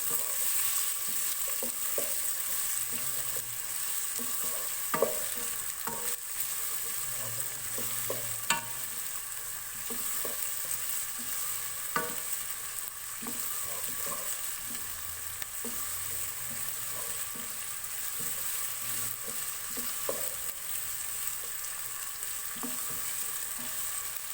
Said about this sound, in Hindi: प्याज को मैं मीडियम फ्लेम पे फ्राई कर रही हूँ, ताकि हमारी प्याज जले नहीं